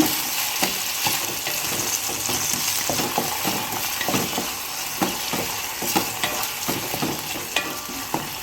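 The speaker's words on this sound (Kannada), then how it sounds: "ತುಪ್ಪದಲ್ಲಿ ಟೊಮೊಟೊ ಫ್ರೈ ಆಗ್ತಾ ಇದ್ದರೆ ಮಗಮ ಅಂತ ಪರಿಮಳ ಬರುತ್ತೆ" Chopped tomatoes frying in ghee with salt in a pan, giving a continuous close sizzle broken by frequent scraping stirs and light utensil taps, with no voices.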